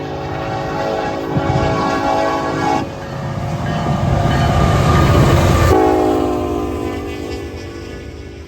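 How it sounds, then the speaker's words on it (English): A train rumbles past close by in snow, its horn blaring in long sustained blasts over the heavy rolling clatter of wheels on rails. "there are too many trains, so here's another one"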